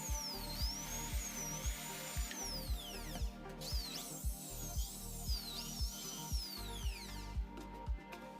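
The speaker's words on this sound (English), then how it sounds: "drill 6 holes along the edges" A power drill bores holes along the edges of a slightly bent piece of pipe for a slate roof repair, giving a faint, steady run of evenly spaced mechanical clicks under a wavering, rising and falling motor whine.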